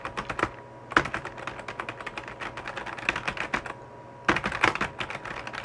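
Rapid clusters of computer keyboard keystrokes clatter close by, broken by brief pauses before bursts of typing resume.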